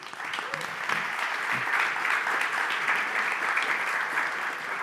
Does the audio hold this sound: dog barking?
no